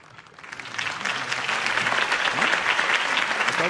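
A crowd breaks into applause for Harvey Dent's campaign speech in the Telltale Batman video game, swelling over the first second into steady, dense clapping that holds to the end.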